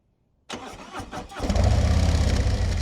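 A 2024 Harley-Davidson Street Glide with a Tab Performance exhaust cranks over after a moment of silence, then catches and settles into a loud, deep, rumbling idle up close.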